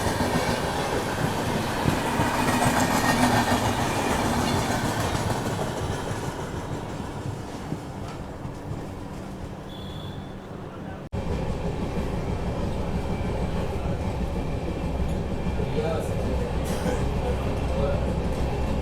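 A Tata Nagar to SMVT Bengaluru Express on the scenic Visakhapatnam–Araku line rolls along the rails with a loud, steady rumble and wheel noise, broken by a sharp jolt partway through before the rolling carries on.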